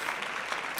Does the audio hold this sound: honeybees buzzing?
no